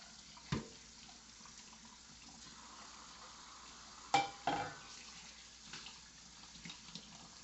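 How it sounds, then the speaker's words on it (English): Juicer parts from a Sana Supreme juicer are rinsed under a running kitchen tap, with a soft steady water hiss and a few brief splashes and knocks as the parts are handled. "It's just a matter of rinsing this."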